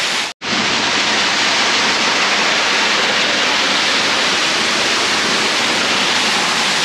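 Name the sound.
Nohkali-kai waterfall in Meghalaya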